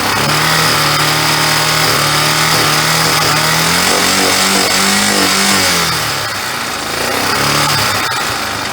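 A 1994 Yamaha Moto-4 ATV engine with a smoking fault and a carburetor just pushed back into place idles loudly and close, its steady note wavering slightly and dipping near the end.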